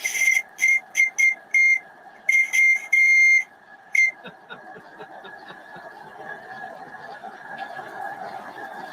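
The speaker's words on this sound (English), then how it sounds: "I'm going to put my other glove on here so we can get the whistle going." A shrill steam whistle sounds in a series of short, sharp blasts, then gives way to a steady hiss of escaping steam.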